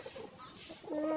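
Chickens clucking close by on a rural Filipino property, short soft clucks over a steady background hiss, with no talking.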